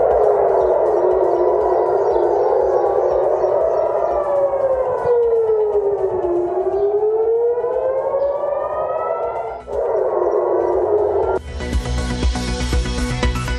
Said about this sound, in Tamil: இஸ்ரேலின் டெல் அவீவ் ஜெருசலேமில் தொடர்ந்து ஒலிக்கும் சைரன் சத்தம்.